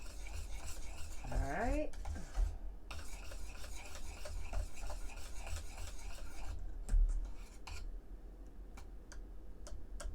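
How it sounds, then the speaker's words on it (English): A spoon scrapes and rasps steadily as butter is stirred into banana cream pie filling in a pot, with brief ticking knocks toward the end and a short spoken remark. "we're just gonna stir this in real good till we get all that butter melted"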